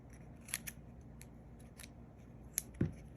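Scissors snip through quilling paper flowers, a few quiet crisp cuts scattered across a near-silent background, the sharpest snip near the end.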